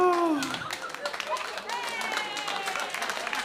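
Comedy club audience applauding, scattered claps and laughter building into uneven clapping at moderate distance, with a voice speaking briefly at the start.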